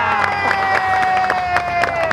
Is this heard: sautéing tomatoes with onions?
no